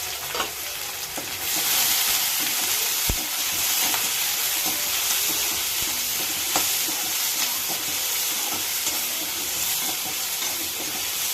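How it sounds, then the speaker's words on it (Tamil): Onion and dried red chillies sauté in a pan for a Tamil garlic kuzhambu, a steady loud sizzle and frying hiss with occasional stirring scrapes and clicks throughout, no voices. "நல்லா வதக்குங்க."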